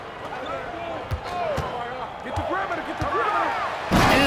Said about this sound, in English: What a slam by Halliburton, using that agility to make a statement